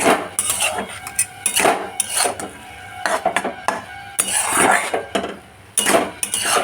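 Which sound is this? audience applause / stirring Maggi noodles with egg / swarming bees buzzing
stirring Maggi noodles with egg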